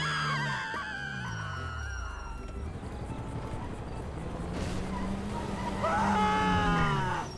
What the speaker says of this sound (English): Passing by the box office in Vinewood Bowl results in the sound of pedestrians screaming